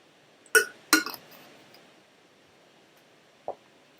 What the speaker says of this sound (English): I'm just going to take a sip of my water.